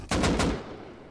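Quick burst of three close, loud gunshots in the survival game Rust, evenly spaced in under half a second, followed by a short decaying echo.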